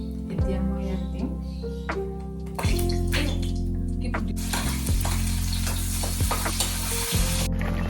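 Fish pieces fry in a hot pan with a steady, bright sizzle, punctuated by scraping stirs and clinks of a utensil against the pan.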